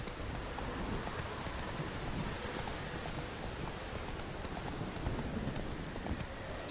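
Roach the horse's hooves clip-clop at a run through The Witcher 3, steady and continuous under a dense wash of rain that nearly buries the footfalls.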